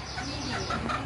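Chickens clucking in a village yard in rural Bangladesh, a steady run of short near calls over soft background noise.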